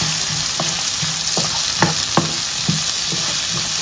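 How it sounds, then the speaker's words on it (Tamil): Chopped onions and green chillies sauté in hot oil with a steady, close sizzle, broken by several soft stirring scrapes and taps from a spoon in the pan. "இப்போ ஆயில் ஹீட் ஆனோடனே நம்ம இந்த கட் பண்ணி வச்சுருக்கா ஆனியனை, பச்சை மிளகாய் இது எல்லாமே போடலாம்"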